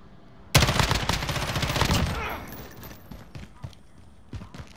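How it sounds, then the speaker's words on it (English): Shotgun blasts in Call of Duty: Modern Warfare, a sudden loud close discharge followed by a rapid burst of further shots that decays over about two seconds, then scattered faint game clicks and impacts. "I'm gonna shoot you with your shotgun just because you're a jerk"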